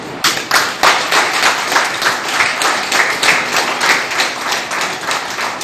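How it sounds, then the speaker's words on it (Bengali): A crowd claps continuously in honour of health workers at a welcome event for Covid frontline staff in Raniganj, a dense, loud, steady applause. "তাদের জন্য হাততালি বাজানো উচিত।"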